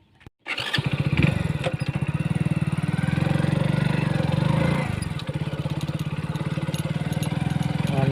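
A Hero Splendor Plus motorcycle engine starts up and settles into a steady, loud idle with a fast, even thumping putter, close by and alone, briefly dipping near the middle before running on.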